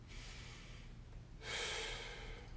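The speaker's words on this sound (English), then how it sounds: "Take a nice deep breath in" A person draws a deep breath in through the nose during a neck stretch, quiet airflow that swells into a louder, rushing inhale partway through, close and alone.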